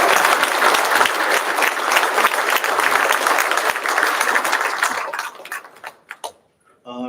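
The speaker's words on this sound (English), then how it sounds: "How's about another round of applause for" A crowd applauds at a Hawaii Fire Department recruit graduation with loud, dense clapping for about five seconds, then thins to a few scattered claps before fading out.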